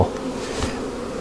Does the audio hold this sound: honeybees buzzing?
yes